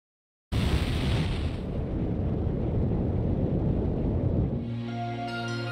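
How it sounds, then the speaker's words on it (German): A loud, sustained explosion in the Final Fantasy IV Pixel Remaster video game bursts in suddenly and roars as a continuous rumbling blast for several seconds, then gives way to a tonal musical sting. "Es wird gleich explodieren."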